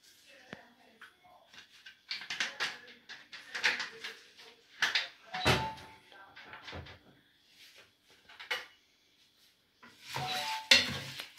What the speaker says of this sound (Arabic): غادي نحركها بحال هكايا